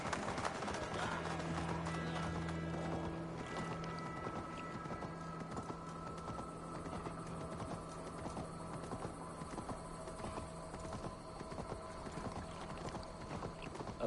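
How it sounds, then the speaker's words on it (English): Horse hooves clip-clopping in Assassin's Creed Valhalla, a quiet continuous trotting rhythm beneath a low ambient music drone, with faint game background sound. "that horse!"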